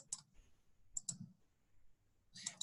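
Mouse clicks on a computer while filling in an event form: a few sharp, close clicks spread over a couple of seconds, with no talking.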